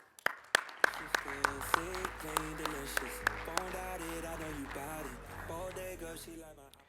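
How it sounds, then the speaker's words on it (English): An audience claps through a rhythmic run of sharp, evenly spaced hits at an event. Music and voices sit prominently over the clapping, which fades into the background after a few seconds. "Please give him a round of applause."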